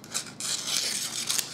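A knife freshly honed on a Lansky sharpener slices through baking paper, giving close, steady scraping and rasping strokes with brief louder bursts and no talk.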